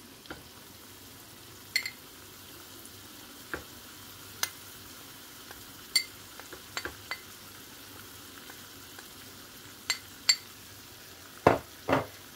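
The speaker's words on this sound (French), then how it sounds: "Nous allons réaliser en sorte un roux, faire cuire la farine." Flour cooks in melted butter for a roux, giving a soft steady sizzle under sharp, scattered clicks of a utensil stirring against the pan, with no talking.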